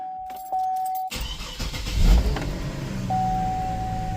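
A 2007 Chevrolet Trailblazer with a variable valve timing solenoid fault (P0014) cranks and catches after a dashboard chime, then idles with a brief rev swelling in the middle; the chime returns near the end.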